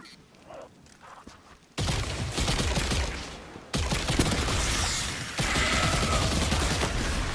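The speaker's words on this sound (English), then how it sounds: "Weapon I'm using is a submachine gun, which is new." Submachine gun fire in Destiny 2, heard as loud continuous rapid bursts that start abruptly after a quiet opening and run in three long stretches to the end.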